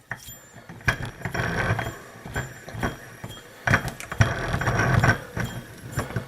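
An Allen key holds the shaft while the inertia disc of a wind turbine alternator is loosened and worked free, giving close metallic clicks, ratcheting and scraping clanks in irregular bursts, no speech.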